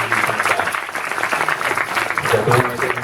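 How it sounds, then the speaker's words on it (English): An audience at the NJ Tech Meetup claps in a loud, fairly close round of applause, mixed with murmuring voices and scattered cheers from the crowd. "Big round of applause here, come on."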